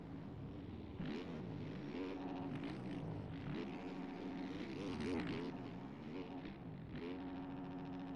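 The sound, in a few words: motocross bike accelerating in supercross racing video game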